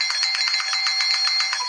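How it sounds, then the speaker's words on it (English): A house doorbell rings late at night as a fast, steady, trilling electronic ring that stays loud throughout, with no other sound. "I'm just going to ring his doorbell and maybe he'll give me a house tour."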